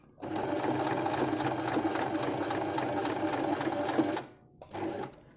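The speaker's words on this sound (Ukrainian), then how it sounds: "голка проколює тканину, розправляємо нитки, опускаємо лапку в нижнє положення, прокладаємо строчку" A sewing machine stitches a seam through fabric for a small pouch, with a steady, close, rapid mechanical whir for about four seconds, a brief stop, then a short second burst.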